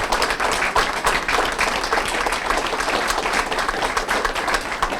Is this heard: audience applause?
yes